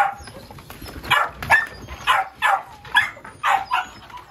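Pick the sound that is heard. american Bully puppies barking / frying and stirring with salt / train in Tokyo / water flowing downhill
american Bully puppies barking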